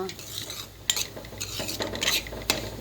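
Semolina dry-roasting for sweet sheera, stirred in a pan with a utensil scraping and clinking against the metal in uneven strokes, a faint sizzle beneath, close and alone.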